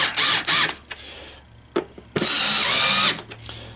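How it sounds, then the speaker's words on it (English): A small 4-volt electric screwdriver drives screws while a coin hopper is taken apart, giving several short, close whirring bursts separated by brief pauses. "You don't want to strip out these screws. Okay? This is just a 4-volt driver."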